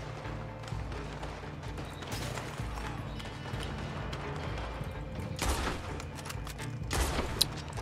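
Pistol shots in the video game Red Dead Online, rapid sharp cracks scattered across the stretch, with denser bursts midway and a loud single shot near the end over mechanical creaks.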